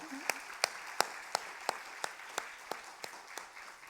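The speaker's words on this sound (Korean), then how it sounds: "박수 한번 진짜요" A small church congregation claps in a slow, even rhythm during an afternoon Sunday service, about a dozen distinct claps heard quietly at a distance.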